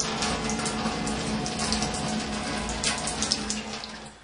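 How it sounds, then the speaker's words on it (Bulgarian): Water is poured steadily into the glass base of a hookah, a continuous close splashing gurgle with no voices. "Започва да сипвате вода."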